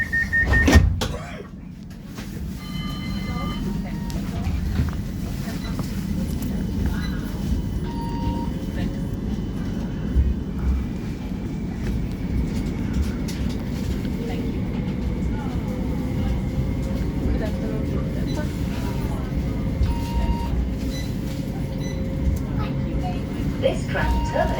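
West Midlands Metro tram departing Corporation Street stop, a low, steady rumble of the tram car with faint whirring and rattling after a door-closing thud, continuous throughout with a recorded announcement voice at points.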